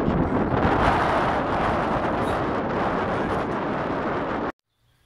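Strong beach wind buffets the microphone in a loud, continuous roaring rumble that stays steady for several seconds, then cuts off abruptly into near silence.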